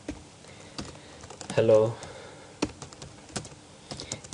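Code is typed on a computer keyboard as a scattered series of sharp, close clicks at an uneven pace, interrupted by a brief spoken word.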